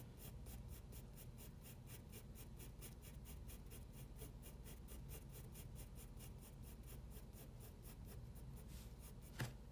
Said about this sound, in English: Use the fine edge of the pencil and just keep going darker, darker, darker, just like that